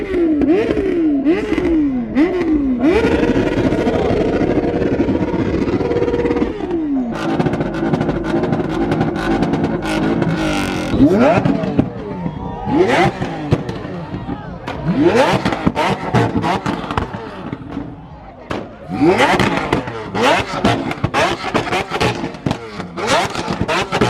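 At a large car meet, a car exhaust revs loudly and close by, repeatedly rising and falling in sharp bursts and swooping pitch sweeps. Quieter engine rumble and crowd noise fill the gaps between revs.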